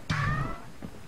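A cat meows once in the video game Bastion, a short harmonic cry with a fainter second call trailing after, heard alone without talk.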